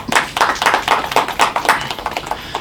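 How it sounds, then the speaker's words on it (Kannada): Hand clapping in a Kannada movie scene: a steady run of about a dozen close, crisp claps at an even rhythm, heard alone without talk. "ನೀವೊಬ್ಬರೇ ಯಾವಾಗಲೂ ಚಪ್ಪಾಳೆ ತಡ್ತಿರಲ್ಲ"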